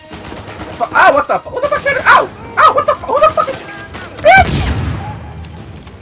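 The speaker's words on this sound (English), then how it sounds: "I forgot I had the grenade launcher out." A grenade launcher fires in Uncharted 4, one deep, heavy thump late in the moment, while a man exclaims loudly over it and before it.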